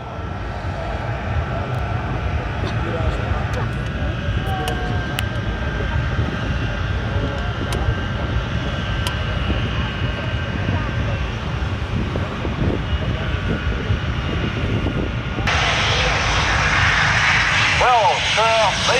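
Loud aircraft engine roar from a military machine manoeuvring on the runway at an RAF Leuchars air show, a sustained close drone with a tonal whine, swelling louder near the end, under a public-address announcer talking.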